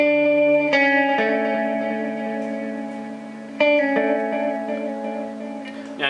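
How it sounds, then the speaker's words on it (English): Boss DD-20 Giga Delay pedal in modulate mode on guitar: a few strummed chords ring out with wavering, vibrato-tinged echoes trailing behind each strike, no voices. "That's where you're actually going to get a little bit of vibrato on the echoes."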